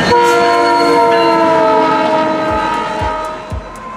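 A loud, sustained train horn blares with a rich chord of tones, held steady before fading slightly, with rail rumble and faint clacks underneath.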